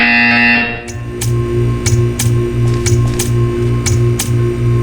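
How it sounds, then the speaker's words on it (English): A sharp electronic tone sounds, then a rapid series of regular buzzing pulses repeats steadily, loud and close, with no talking; a buzzer in the video game Portal 2. "You will hear a buzzer. When you hear the buzzer, stare at the art."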